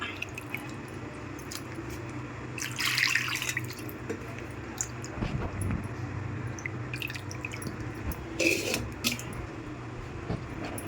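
Raw dried fish being rinsed by hand under running water at a sink, with a faint continuous trickle, soft drips and splashes, and a few brief handling noises.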